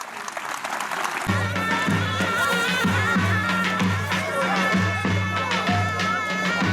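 A crowd at a Turkish oil wrestling event breaks into sustained clapping that swells and holds, with a loud drone of music and a voice over it.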